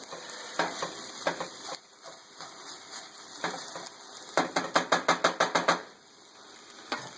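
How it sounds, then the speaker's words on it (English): Beef and egg stir fry in a hot pan sizzles steadily while a utensil scrapes the bottom, with a quick run of close, rhythmic scraping strokes near the end. "some of the egg whites are sticking to the bottom, so just kind of scrape it off"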